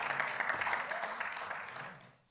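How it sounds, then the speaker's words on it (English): Applause from an audience at a Friday night synagogue service, a dense steady patter of clapping that fades out toward the end. "buen aplauso"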